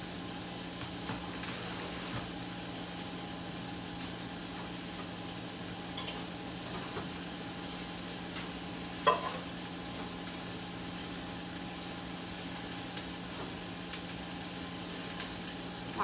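Seasoned chicken pieces sizzle and fry in a pan alongside vegetables, a steady, even crackling hiss that continues without a break, with a few faint clinks and no talking.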